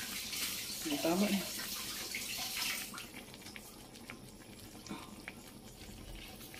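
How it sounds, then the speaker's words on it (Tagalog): Running tap water rinses fresh oregano leaves at a kitchen sink, a steady broadband splash loudest in the first few seconds, then quieter, with a person speaking briefly over it. "Ito yung oregano guys. Hugasan na natin."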